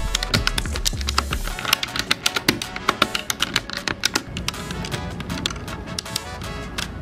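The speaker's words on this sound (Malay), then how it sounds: "keyboard yang aku pakai ni is Royal Clutch RK68" Rapid typing on a white Royal Kludge RK68 mechanical keyboard, crisp clacky keystrokes in irregular bursts with a few heavier taps, close and clear with no talking.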